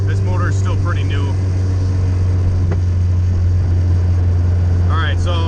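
A Honda CRX engine idles steadily during tuning, a loud constant low hum with a few faint higher chirps and clicks over it.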